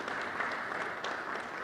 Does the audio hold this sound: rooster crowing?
no